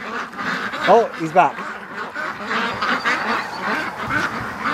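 Ducks on a backyard duck patrol quack in a short run of calls near the start, over outdoor background noise, with a person talking through the clip.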